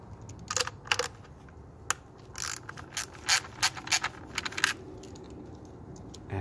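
Ratchet socket wrench with an 8 mm socket clicking as screws come out of a 2015-2017 Ford Mustang EcoBoost during a spark plug change, rapid close bursts of pawl ticks with short gaps, no speech.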